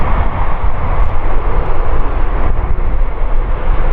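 An Airbus A380 airliner with Rolls-Royce Trent 900 engines roars loudly and steadily at Farnborough Airshow, a dense unbroken jet rumble filling the whole stretch.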